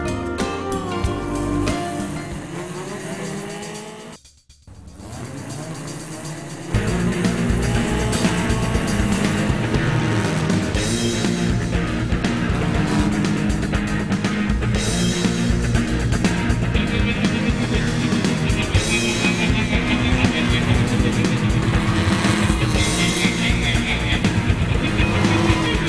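A loud motorcycle engine roars and revs continuously after a brief lull during bike stunts, with crowd noise and music mixed in the background.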